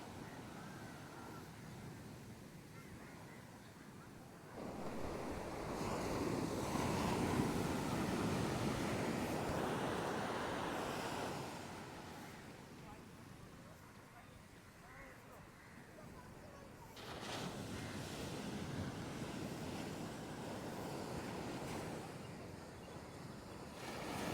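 Sea waves surge onto the shore at Maruthamunai, a steady roaring wash that swells in two long pulses with wind buffeting throughout.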